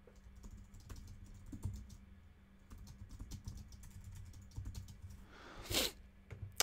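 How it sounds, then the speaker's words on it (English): Typing on a computer keyboard produces scattered, quick, close key clicks at an irregular pace over a low background hum, with a brief louder clack near the end. "I'm just gonna type refresh."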